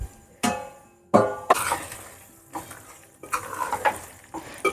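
A spoon scrapes and clanks in a pot of Hyderabad chicken biryani, several separate stirring strokes with metallic knocks and soft sizzling between them, close and fairly loud.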